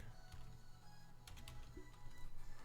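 Typing on a computer keyboard, faint scattered key clicks with a short flurry in the middle, set against a low steady hum.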